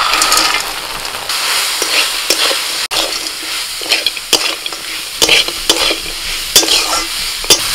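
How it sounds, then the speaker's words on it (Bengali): Fried corn is stirred into sizzling spices in a hot pan for a crispy corn snack. A steady oily sizzle runs throughout, with repeated scraping stirs and clicks of the spoon, close and fairly loud, with no talking. "এবার এর মধ্যে আমি দিয়ে দিচ্ছি ভাজা ভুট্টা।"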